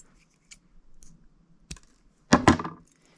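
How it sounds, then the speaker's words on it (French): A single snip as excess fishing line is cut with scissors while tying a fishing rig, a short sharp click near the middle followed by a louder rustle of handling. "Maintenant, je vais venir couper l'excédent."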